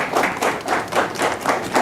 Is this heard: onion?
no